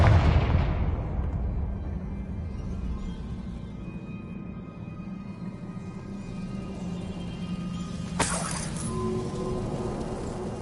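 A fiery Confringo spell blast in Hogwarts Legacy, a dense rumbling boom that fades into a low sustained roar, with a sharp bright crack near the end of the clip.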